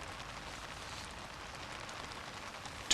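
Rain falls steadily and softly on an owl taking a rain bath, a faint even hiss of patter with no voices and a small bump at the very end.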